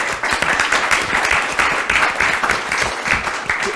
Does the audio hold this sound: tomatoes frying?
no